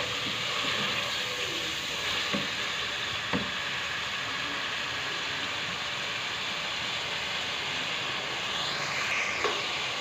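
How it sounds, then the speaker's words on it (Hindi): Chicken frying in a pan with ginger, garlic and previously fried onions, giving a steady, close sizzle with a few faint stirring clicks throughout, no voices. "अदरक लहसुन और ये प्याज जो हमने फ्राई किया था उसमें हम चिकन को थोड़ी देर अच्छी तरह फ्राई करेंगे"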